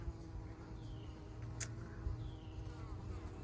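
Honey bees buzzing at a beehive about five weeks old, a faint, steady, continuous drone with no talk.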